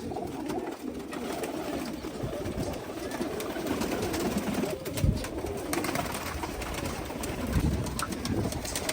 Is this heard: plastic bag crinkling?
no